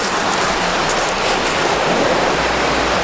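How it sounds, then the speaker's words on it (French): Small Mediterranean sea waves break close by as a continuous loud wash of surf with soft swells, and no voices are heard. "Ah, c'est ça que t'appelles des vagues?"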